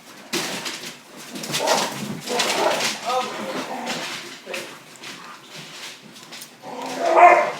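Dogs barking and whimpering indoors, repeated yips and barks with whines in between, fairly close and loud, mixed with voices.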